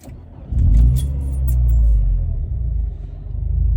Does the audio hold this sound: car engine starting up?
yes